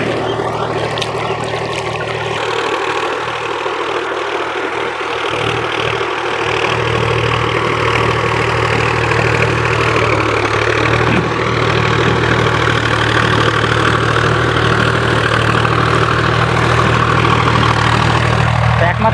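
A Sonalika DI 50 RX Sikandar tractor engine running steadily while plowing a muddy field, a constant low diesel drone with a deep hum, close and continuous, with someone talking over it.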